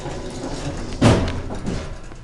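Westinghouse hydraulic elevator door in a Bloomingdale's at King of Prussia mall sliding shut, a single thudding close that peaks midway and then fades into low mechanical rumble, with no talk.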